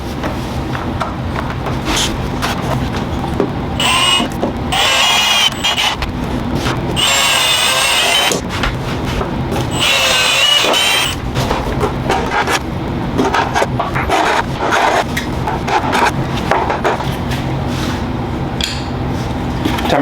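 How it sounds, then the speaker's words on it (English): Holes are drilled into a snowmobile tunnel for a Rox tunnel grip install, with repeated bursts of drilling and grinding against metal over about twenty seconds, loud and close with brief pauses and handling noise between runs. "Alright, I'm ready to drill my holes."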